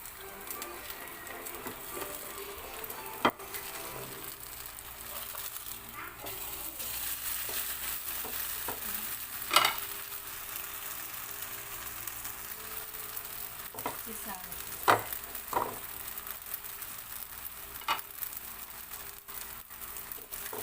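Batter for a semolina dosa fries on a hot pan with a steady low sizzle, while a few faint scrapes and taps of a spatula come through now and then.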